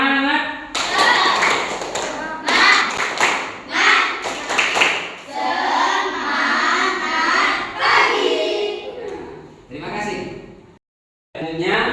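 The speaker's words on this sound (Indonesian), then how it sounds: "Tepuk semangat." Indonesian elementary class performing a rhythmic spirit clap, bursts of group clapping in patterned beats mixed with children chanting and shouting together, punctuated by brief pauses and ending with a short silence.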